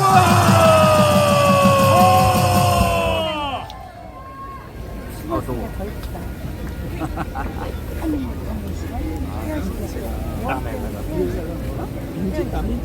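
At an outdoor political rally at Gwanghwamun, a loud musical tone fades out and gives way to a broad crowd roar of shouts and cheers welcoming two Buddhist monks, sustained and diffuse with scattered yells.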